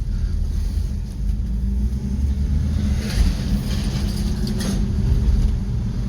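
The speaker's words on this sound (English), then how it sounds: "we're gonna put it back in first gear" A Rambler American car drives in first gear with a steady low engine drone and road rumble heard from inside the cabin, with a slight rise in revs; there is no talk.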